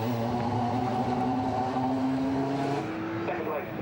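A Radical SR3 race car pulls away at Brands Hatch, its engine note climbing and droning loud and near beneath a commentator's voice, then fading slightly at the end.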